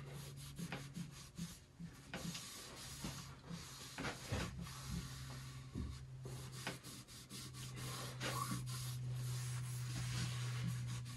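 A rag wipes excess stain off an oak nightstand top in a shop, giving soft irregular rubbing and scuffing strokes over a constant low hum.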